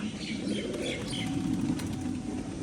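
A Giribaz tumbler pigeon at a Rajshahi pigeon farm flaps its wings during a tumbling display, a soft, fluttering whir of wingbeats with faint chirps over a noisy outdoor background.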